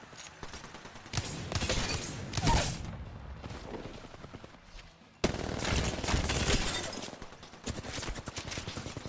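Apex Legends gunfire in bursts of rapid automatic shots, two loud volleys separated by a brief lull, with sparse speech in the mix.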